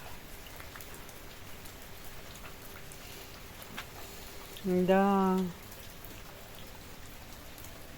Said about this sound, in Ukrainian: Дощик перестає.